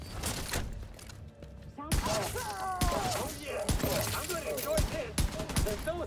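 Gunfire from The Division 2 crackles in rapid sustained bursts, loud and close, mixed with impacts and mechanical clatter, while a voice talks over the action.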